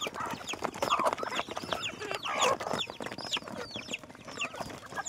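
Hens on a farm cluck in short, irregular bursts, several birds close by and fairly soft, with scattered rustling between the calls.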